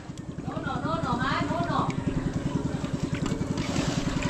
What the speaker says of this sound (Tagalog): Natakot siya sa makina mga maninay kasi pinaparangrang kasi ni Papa No na ha?